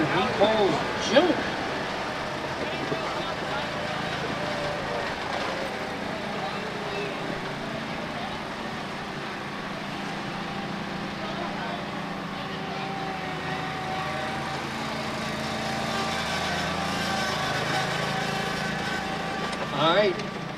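A garden tractor engine at a tractor club pull, droning steadily at a distance under a loud public-address announcer's talk, with brief louder bursts near the start and end.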